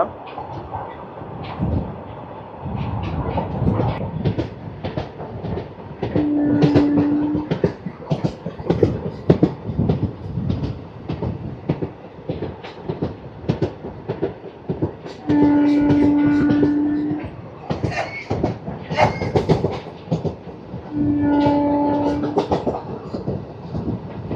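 The Narasapur Express passenger train with ICF coaches runs on a single track, a steady loud rumble with rapid clickety-clack beats and three sustained horn blasts near the middle and end.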